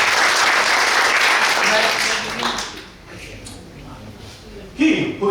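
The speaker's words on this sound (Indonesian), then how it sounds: "Tepuk tangan buat Tuhan kita." Congregation in church clapping, a dense burst of applause that fades after a few seconds, then quieter room sound with a voice speaking near the end.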